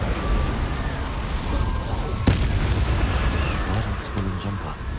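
Spell explosions from Confringo and Incendio crackle in Hogwarts Legacy gameplay, a sustained dense roar with one sharp blast near the middle and softer bursts toward the end, under a voice.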